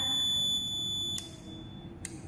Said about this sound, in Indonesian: Buzzer akan menyala.